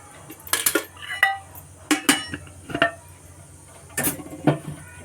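A cooking pot set on a stove to heat, with a ladle of oil poured in, giving a string of close, sharp metallic clanks and knocks in uneven bursts over a low steady background hum.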